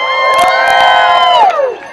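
A crowd cheers and whoops loudly in a short burst of bright, sustained shouting that fades at the end.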